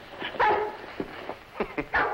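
A dog barks in a series of short, sharp bursts, with a few yips mixed in, close by in an old television sitcom scene, with no voices over it.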